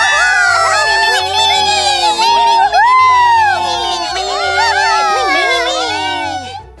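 A crowd of little cartoon spirits cheers loudly in high, excited voices, a continuous chorus of whoops and shouts over a light rhythmic musical backing.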